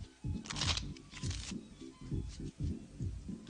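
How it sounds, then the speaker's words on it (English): A deck of playing cards is shuffled by hand nearby, with several quick papery riffles and soft rhythmic slaps that repeat in bursts over a few seconds. "shuffle the cards thoroughly"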